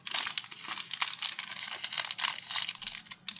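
Scissors snip and crinkle their way through an orange plastic bag up close, a dense run of crisp cutting and rustling with no voice over it.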